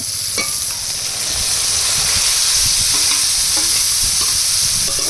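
Leafy greens being stir-fried with prawns in a hot pan: a close, continuous sizzle with repeated scraping and stirring strokes of a spatula.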